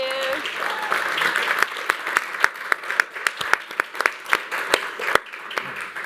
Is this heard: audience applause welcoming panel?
yes